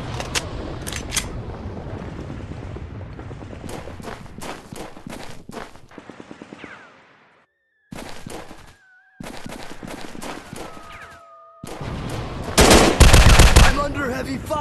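Heavy gunfire fills a Real Commando video game firefight: rapid bursts and single shots crackle close and loud, break off into brief silences, then return with a dense barrage at the end.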